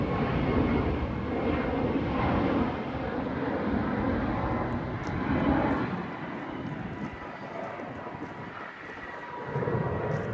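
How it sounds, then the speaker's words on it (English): An airplane near Sangster International Airport in Montego Bay gives a loud, steady broadband roar that swells and fades over about ten seconds, heard from a roadside setting with no voices. "See the airplane there?"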